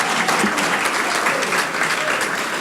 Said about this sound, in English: Let's give those youth another nice round of applause